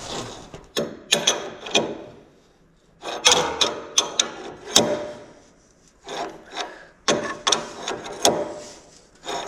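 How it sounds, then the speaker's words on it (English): A hand tap scrapes and ratchets as it cuts threads into steel on a telehandler axle part, in irregular bursts of rasping strokes separated by short pauses, close and moderately loud. "I did manage to get this tap started, so it should be good to go"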